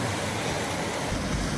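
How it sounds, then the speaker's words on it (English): Tamanawas Falls in winter, a raging waterfall pouring into a frothy pool, gives a steady, dense roar of rushing water that holds constant throughout, with no voices. "Look at that raging waterfall into that frothy pool of goodness."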